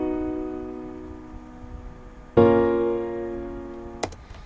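An FL Studio piano melody for an Afrobeat track: a sustained chord fades out, then a fresh chord with an extra note rings out brightly and is cut by a short sharp click near the end.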